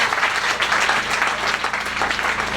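A church congregation applauds during a sermon, a dense, steady wash of clapping filling the room without pause.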